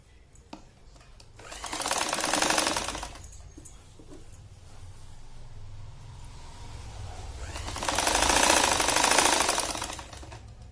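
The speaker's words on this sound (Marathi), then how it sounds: "त्याची पण एकाकडची बाजू अशी हे शिवून घ्यायची." A sewing machine stitches the edge of a pillow cover in two rapid buzzing bursts of a couple of seconds each, separated by a quieter pause with faint handling sounds, close up.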